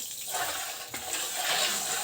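Water is poured into sugar to make a sugar syrup for adadiya, a traditional Gujarati winter sweet, giving a steady close splashing pour that runs for about two seconds with no talk.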